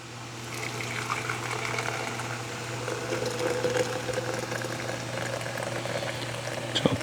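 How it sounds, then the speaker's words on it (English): Hot water is poured slowly over ground chicory in a press pot for coffee, a continuous soft trickle and splash that stays steady and close, with no voices. "We'll do a slow pour over."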